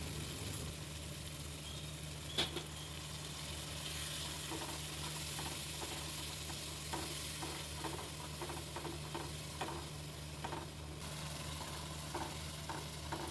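Sambar spice paste frying in oil for a stuffed teasel gourd (kakrol) dish, stirred in a pan: a steady low sizzle with a series of soft, regular scraping strokes and one sharper knock near the start, no voices.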